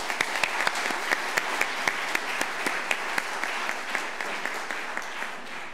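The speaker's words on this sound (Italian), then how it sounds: "un applauso per Antonio" An audience claps steadily at a university engineering department's tenth-anniversary award ceremony, a dense sustained round of applause with a few sharper individual claps standing out near the front.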